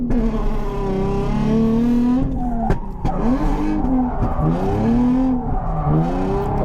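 A modified drift car slides at a big angle, its engine revving in rising and falling tones with tire squeal mixed in, loud and close throughout.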